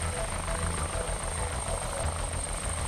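STARS emergency helicopter, an AW139 or BK117, approaching a landing zone: continuous loud rotor thump and turbine whine holding steady, with a high constant tone above, heard with no voices.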